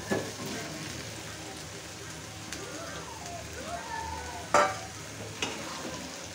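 New potatoes and green peas are stir-fried in a pan, giving a low steady sizzle with soft scraping stirs and a couple of sharp utensil knocks near the end, with no one talking.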